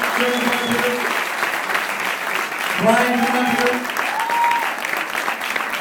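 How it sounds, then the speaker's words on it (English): An audience at a Nashville party applauds steadily for the Tennessee ambassadors, with loud, sustained clapping and cheering while a man calls someone up on a microphone. "give all the Tennessee ambassadors a big, big, big round of applause"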